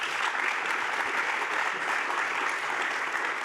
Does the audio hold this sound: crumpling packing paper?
no